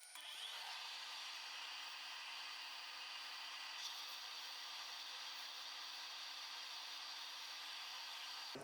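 A continuous steady hiss of sanding a wooden bowl on a lathe, like a spinning pad rubbing against wood, with an even machine hum and no pauses or talk.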